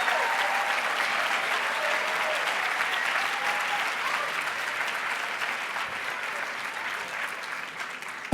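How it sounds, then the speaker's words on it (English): A conference audience at a 2017 session applauds as a speaker walks to the stage, a steady, full wash of clapping from a large crowd that holds for over eight seconds and eases slightly before stopping. "please give her a round of applause as she comes to the stage today"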